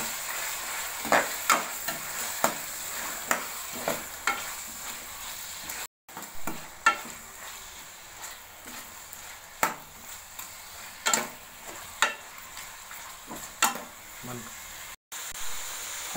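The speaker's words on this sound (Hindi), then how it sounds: "और अच्छी तरह मिक्स करेंगे।" Green chicken karahi sizzles steadily in the pan while a spoon stirs it in repeated short scraping strokes, close and moderately loud, with a voice speaking over the cooking.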